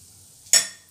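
Cumin seeds dropped into a hot pan burst into a sudden loud sizzle that flares up sharply, then fades quickly.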